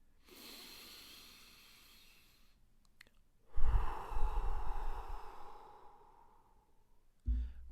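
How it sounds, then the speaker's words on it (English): A person breathing in slowly and deeply, then blowing out in a long, strong exhale, close and quiet, with a short breath at the end. "Breathing in and blowing out."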